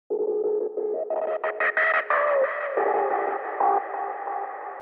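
A distorted hardcore synth melody plays alone, its tone shifting with distortion and EQ automation as the notes step up and then settle into a sustained buzzy line.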